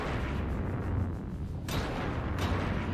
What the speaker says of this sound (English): Those turrets are still firing.